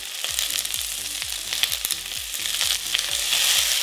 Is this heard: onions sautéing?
yes